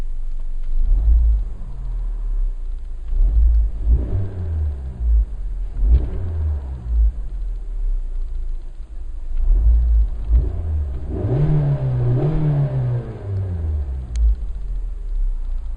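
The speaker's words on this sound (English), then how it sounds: "And we'll see how the Suzuki Swift sounds." A 2014 Suzuki Swift's engine revs in a series of rising and falling surges, several short blips then a longer climb near the end, loud and close with a steady idle rumble between.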